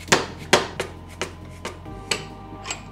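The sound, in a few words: hammer tapping axle out with drift punch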